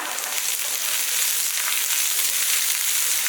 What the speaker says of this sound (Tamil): கட் பண்ணி இதை போட்டு நல்லா வதக்கிக்கலாம்